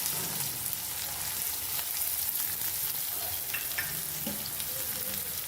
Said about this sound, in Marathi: एक थोडासा हिंग टाकून घ्यायचा आहे आणि त्याचबरोबर आपल्याला एक मी उभा कांदा कट केलेला बारीक तो ह्याच्यात टाकून द्यायचा आहे